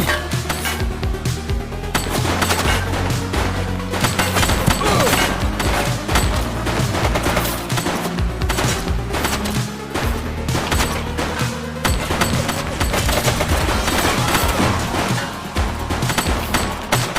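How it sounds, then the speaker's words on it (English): A sustained barrage of rapid gunshots in The Precinct police game during a final shootout with gang members, crackling densely and loudly across the whole stretch with crashing impacts mixed in. "Shots fired! Target is down."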